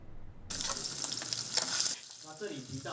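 Fresh Kinmen beef sears in a hot pan with olive oil and vinegar, a loud, steady sizzle that starts abruptly and holds for about a second and a half before easing into a softer crackle.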